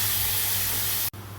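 Onion paste hits hot spiced oil in a pan, giving a loud steady frying hiss that holds evenly before cutting off abruptly near the end.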